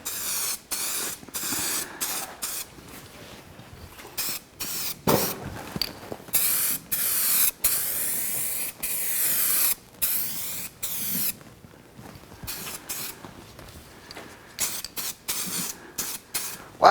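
An aerosol can spray-paints a Toyota 3FE valve cover from a 1991 Land Cruiser in repeated loud hissing bursts of a second or two, broken by short pauses, close and with no talking.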